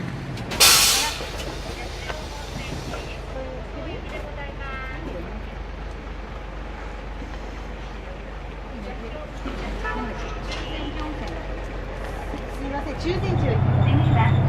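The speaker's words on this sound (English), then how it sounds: "We're aboard the bus." Riding aboard a bus in Nikko, Japan, on the way to the Yashio hot springs: a low engine rumble continues throughout, with a sharp burst of air-brake hiss near the start and people talking quietly inside.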